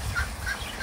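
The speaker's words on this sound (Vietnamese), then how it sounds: "Rồi ba chú vịt kìa." Three ducks on a farm give short, repeated calls, with a few faint quacks spread across a brief stretch over a low rumbling background and no talking.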